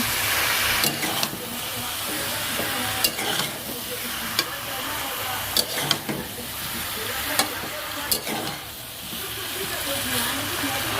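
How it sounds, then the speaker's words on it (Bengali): Fried potatoes and eggplant are stirred into mutton spice masala in a hot pan: a loud, continuous sizzle and hiss with repeated sharp spatula scrapes and knocks at irregular intervals, without speech. "এবার ভেজে রাখা আলু আর বেগুনগুলো দিয়ে দেবো ভালো করে মশলাটার সঙ্গে কষে নেব"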